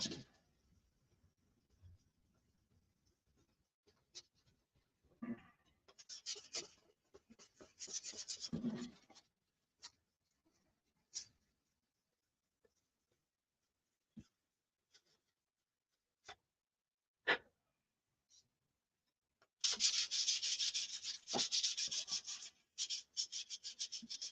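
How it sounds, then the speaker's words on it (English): Scattered dry rubbing and scratching strokes of 320-grit sandpaper on a propeller come in short bursts with quiet gaps, then a longer stretch of steady, hissy abrasion near the end. "light sanding with some 320 all over"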